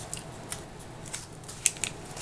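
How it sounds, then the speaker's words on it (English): Straight scissors trimming excess paper from a scrapbook journaling layout, giving a few faint, scattered snips over a quiet background hiss. "come back with the straight scissors again and trim off any excess"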